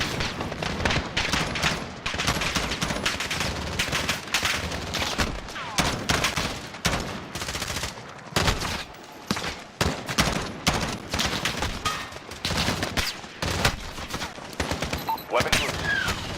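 Video game battle gunfire crackles in dense, overlapping bursts of shots and automatic fire, loud and nearly continuous with brief gaps, while voices call out over the shooting.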